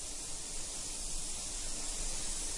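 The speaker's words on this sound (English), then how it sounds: "And now I'm ready to spray pearl black." Steady, even hiss of a spray gun laying down pearl black paint on a car, continuous and close with no pauses.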